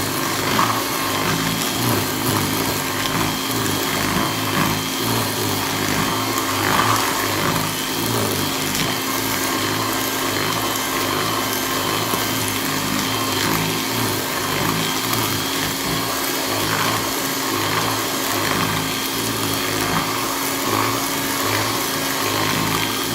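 An electric mixer runs at low speed through spritz cookie dough, a loud, steady motor whir with a faint rhythmic churn that continues unbroken for over twenty seconds without talk.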